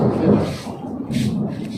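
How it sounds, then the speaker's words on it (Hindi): Thunder rumbling in a mountain storm as dark clouds gather, a low broad roll that swells and fades at moderate distance, with no voices over it. "चारों तरफ से काले काले बादल आ गए हैं और बिजली भी कड़क रही है।"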